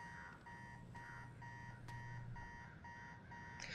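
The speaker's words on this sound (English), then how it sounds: "How long has that been going off? Turn off the alarm." An alarm clock beeps in Marvel's Spider-Man 2, a repeating pulsed electronic tone in an even rhythm over a low hum, continuing through the whole stretch.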